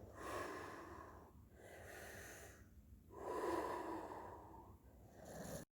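Slow, close breathing during a stretching exercise for a beginner rink hockey goalie, with three long airy exhales and inhales separated by brief pauses, faint and alone.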